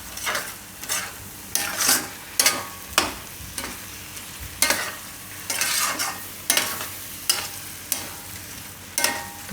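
A spoon stirs a rich gravy with cashews and cream in a hot pan, giving repeated scraping strokes over a steady sizzle, about a dozen sharp swishes in an uneven rhythm, close and clear with no talking.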